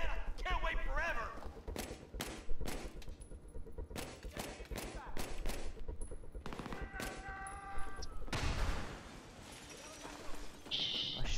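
Bursts of Battlefield 3 gunfire crack out in rapid volleys and single shots, loud and close, with a player talking over the shooting between bursts.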